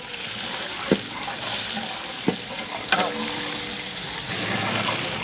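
Chopped onion sizzles in hot oil during tempering for Gujarati cumin rice, a steady broadband frying hiss with a few brief clinks and stirs, close and continuous with no talking.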